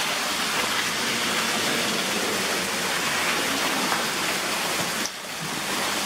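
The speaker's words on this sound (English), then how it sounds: "It's raining. It's constantly raining." Steady, dense rain pours down continuously, a loud hissing wash with no voices, briefly dipping near the end.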